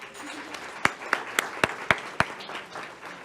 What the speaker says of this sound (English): Let's hear a resounding applause and congratulations to all of our students who match